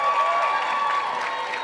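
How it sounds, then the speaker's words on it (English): An audience claps at a college commencement ceremony, a brief continuous patter of applause from a crowd at moderate distance. "You're going to be clapping a lot"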